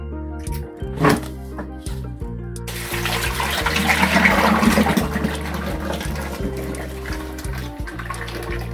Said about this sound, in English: We're just pouring a half block this time, which is about 25 pounds of soap.